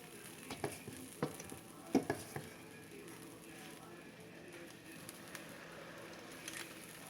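Pancakes frying in a pan give a faint, steady sizzle with a few soft clicks and taps of handling nearby.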